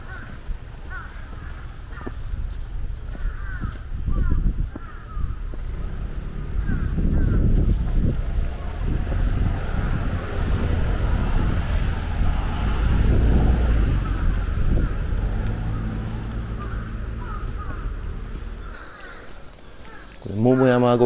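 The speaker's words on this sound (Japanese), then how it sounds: "すごいですね、野鳥の" Wild birds and crows call and caw along a wooded Kyoto trail through the Momoyama imperial mausoleum grounds in Fushimi, scattered under steady wind buffeting and someone talking through much of the stretch.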